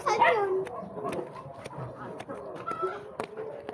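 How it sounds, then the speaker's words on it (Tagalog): Chickens cluck nearby in short bursts, with a louder squawk at the start, over quiet background noise and brief clicks. "Ingay ng manok, mag-itlog na yata."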